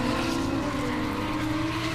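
Drift cars sliding through a corner at Taupo Motorsport Park during a D1NZ Pro-Sport drift series round, with a continuous loud engine drone and tire skid that runs steadily the whole time.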